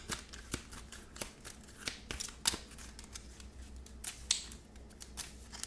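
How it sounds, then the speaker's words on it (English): A deck of cards for the Mystic Vale board game being shuffled, with a quiet run of crisp riffling snaps and clicks close by and no talking. "We were shuffling our deck as we get things ready for"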